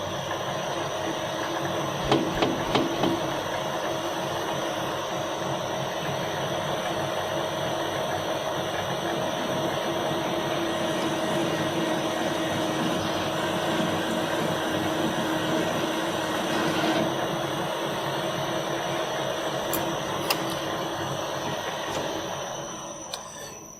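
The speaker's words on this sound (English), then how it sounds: "before we do that, we need to chamfer this hole" A lathe chamfers a freshly drilled hole with a single-edge chamfer tool at drilling speed, giving a steady machine hum and faint cutting noise with a few light clicks early on.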